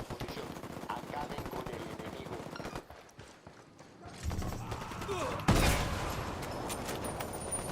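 Gunfire in the video game Ghost Recon Wildlands: rapid automatic bursts rattle continuously at moderate loudness, pause briefly, then resume with heavier shots and mechanical clatter.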